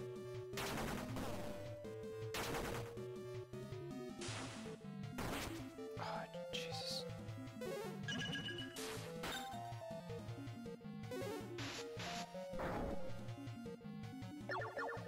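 Rapid barrage of artillery seeds hits striking an opponent in the video game Disc Creatures, a dense run of sharp impact bursts and crashes layered over game music, continuous and loud throughout.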